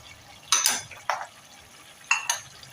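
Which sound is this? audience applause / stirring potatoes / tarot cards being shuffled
stirring potatoes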